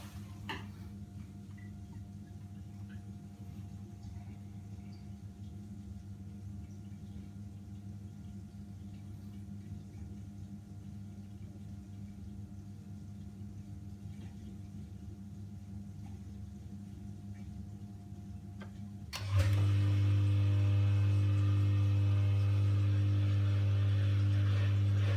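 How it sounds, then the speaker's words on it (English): A Miele G 560 dishwasher sits in a steady low hum for most of the clip, then its pump starts abruptly near the end with a loud, constant drone as water fills. "the pump starts up straight away as the water's coming in"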